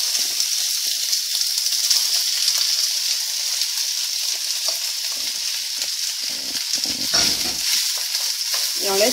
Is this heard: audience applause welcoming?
no